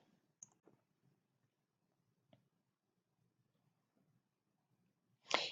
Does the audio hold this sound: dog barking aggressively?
no